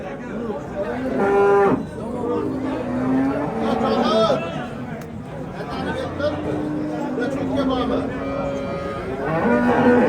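Cows at a livestock market in Shahidon moo repeatedly, long low bellows rising and falling, with people chatting and a vehicle rumbling in the background.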